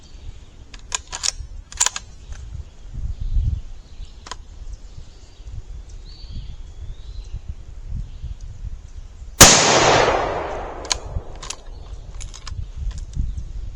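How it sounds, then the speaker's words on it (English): A single sharp, loud rifle shot from a Savage .223 bolt-action rifle with a 24-inch barrel, firing a 55-grain load, rings out partway through with a long echoing decay, after a few faint clicks and handling noises. "First up, a 223 bolt gun, 24-inch barrel, Savage,"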